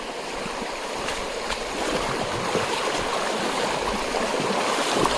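Shallow stream water flowing across a stony vehicle path in a rural area, a steady broadband rush and babble that stays close and continuous throughout with no voices.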